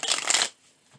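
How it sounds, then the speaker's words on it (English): Tarot cards are shuffled by hand in one quick, close riffling burst lasting about half a second, then quiet. "Let me shuffle it."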